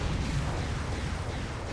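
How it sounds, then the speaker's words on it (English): Rockets explode in Unreal Tournament 3 on the Downtown map, a loud, dense, continuous rumble of blasts and bursts up close with no talk over it. "dodging a few rockets"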